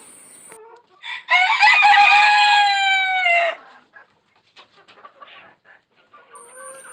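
Fancy Polish cap full white chickens nearby, with a loud drawn-out rooster crow lasting about two seconds, then scattered soft clucks and faint calls from the flock.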